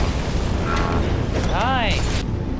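A grenade-style explosion in the game Far Cry 3: Blood Dragon booms loudly amid dense game noise and synthetic whooshing effects, with a player speaking over it.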